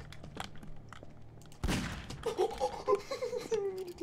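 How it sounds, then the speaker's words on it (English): Video game gunfire in the Nextbots game: one loud, sharp shot burst suddenly breaks a quiet stretch, followed by giggling laughter. "I'm gonna shoot you in the chest."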